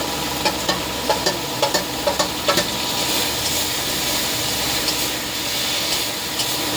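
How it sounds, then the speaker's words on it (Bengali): Ginger and green chili paste is added to fried onions in a pan for a chana dal fritter curry, giving a soft sizzle under a run of sharp spatula clicks and scrapes, then steadier frying. "তো আমার পেঁয়াজ ভাজা হয়ে গেছে, এর মধ্যে আদা আর কাঁচা লঙ্কা বাটাটা দিয়ে দেবো"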